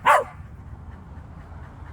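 A cocker spaniel lets out a single sharp, close bark at the start, followed by quiet background rumble.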